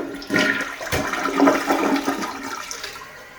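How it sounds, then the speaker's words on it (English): A toilet flushing right after a new installation in a bathroom remodel, a close, loud rush of water that starts abruptly, peaks mid-flush and gradually drains down into a softer trickle, with no voices. "Let's see what happens when we flush the big bowl."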